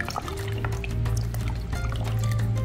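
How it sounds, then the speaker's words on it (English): Cold water pours steadily into a large cooking pot in a home kitchen, a continuous full-bodied rush with low filling resonance, close and loud, running alone for a couple of seconds. "we're gonna fill this up with cold water"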